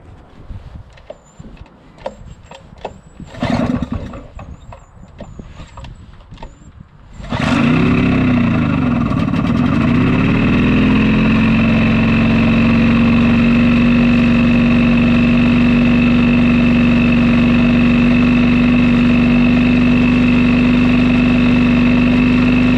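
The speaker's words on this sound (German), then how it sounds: "Dann stellen wir den Vergaserhebel richtig ein und ziehen den Motor an." A Fichtel & Sachs ST-204 generator's small two-stroke engine is pull-started: a few rattling pulls, then it catches and settles into a loud, steady, close idle with a constant drone that holds to the end.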